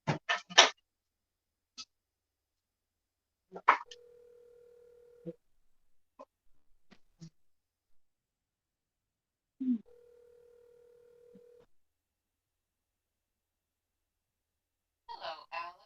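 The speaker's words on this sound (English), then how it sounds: "Okay, I'm calling you." A telephone call ringing tone sounds twice as steady, moderately loud electronic beeps about two seconds long, separated by quiet gaps, with scattered clicks and brief breaths or noises around them and no talk.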